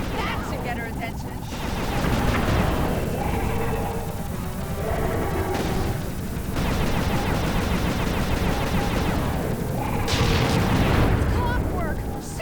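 Gunfire rings out in the Sly 2 video game, with repeated blasts and booming impacts stacked over game music and character voices talking throughout, the shots loud and sustained rather than isolated.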